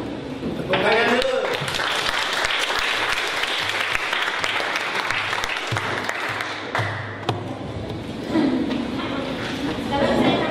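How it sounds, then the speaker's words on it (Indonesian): Applause in a classroom during a computer accounting lesson, a sustained crowd patter of clapping with some voices mixed in, fairly loud and continuous. "Tepuk tangan dulu."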